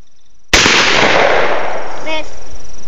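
A single sharp gunshot at an outdoor shooting range, loud and close, with a long decaying echo; a brief voice is heard near the end.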